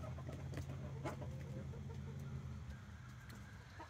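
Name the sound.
chickens clucking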